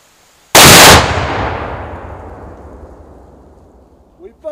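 An inline muzzleloader rifle loaded with smokeless powder and a 300-grain Hornady bullet fires outdoors. One loud, sharp blast is followed by a long rolling echo that fades slowly into quiet.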